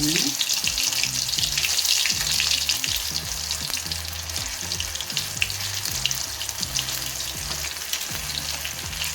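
Meal maker soy chunks fry in hot oil, a loud, continuous bubbling sizzle with a steady crackling hiss that holds throughout at close range.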